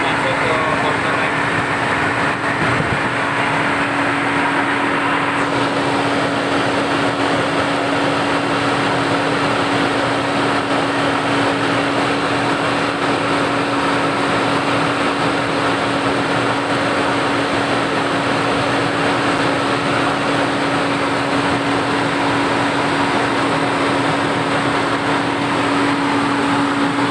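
A 2005 Toyota Innova automatic idles with its engine held steadily at 2000 RPM, a constant droning hum with a steady tone that lasts throughout, with a brief shift near the start.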